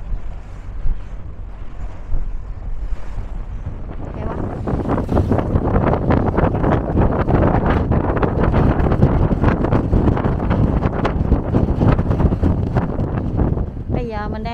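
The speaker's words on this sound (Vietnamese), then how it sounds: "Sóng to, gió lớn." Strong wind buffets the microphone on a boat hauling a corn cargo, with waves and rushing water building into a loud, steady roar and a brief squeal near the end.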